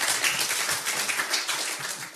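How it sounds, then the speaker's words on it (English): Audience applause at a live talk, a dense, steady wash of many hands clapping fairly close, continuous through the short stretch with no voices over it. "do you want to clap for Walter?"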